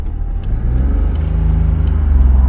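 A Geo Metro convertible's small engine idling close by, a steady low rumble that grows slightly louder toward the end, with a few faint clicks over it.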